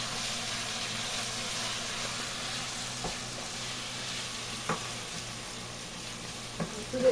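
Meat fries in a pan, a loud, steady sizzle and crackle up close, with a few light knocks and scrapes as it is stirred.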